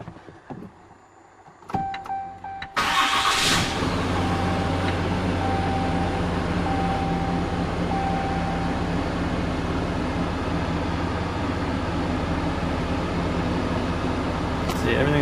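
A 2019 Cummins diesel pickup engine with emissions equipment deleted starts after a few knocks, then idles in a loud, steady, close drone with a low rumble that holds unchanged to the end, while someone speaks over it.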